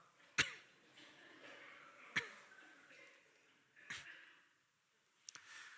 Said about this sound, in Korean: 우리 기침을 한 5초 동안만 입을 가리고 좀 하겠습니다